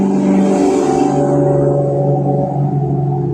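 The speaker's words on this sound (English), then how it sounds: "That's a thriving engine that just went by." A car engine passes close by, a steady loud hum with strong low harmonics that swells and then eases slightly as the vehicle moves on, heard alone without talk.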